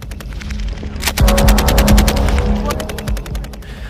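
Heavy machine gun fire on a military shooting range during an exercise, a long rapid burst of loud evenly spaced shots with booming low thuds, starting after a second of quieter rumble and trailing off near the end.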